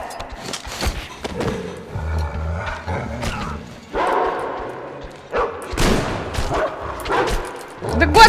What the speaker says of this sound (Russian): Там собака?